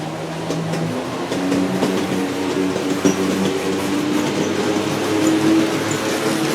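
Three G scale model locomotives, an SD45, SD40-2 and GP40, run fast together, giving a steady, continuous mechanical hum and rolling rumble with no pauses and no voices.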